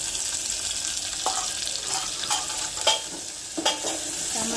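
Onion and tomato fry in a pan for masala dal, a constant close sizzle punctuated by several sharp scrapes and taps of a spoon stirring, with no speech.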